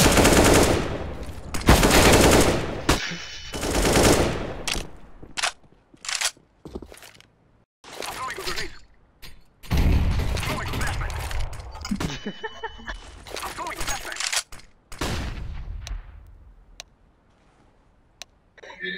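Gunfire in Counter-Strike: Global Offensive on the Mirage map, repeated loud bursts of automatic fire and single sharp shots in irregular clusters, with quieter gaps between, close and dominant.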